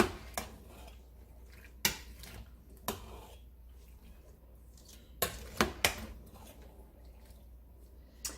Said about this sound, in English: I'll just keep stirring them in because I know they're going to wilt down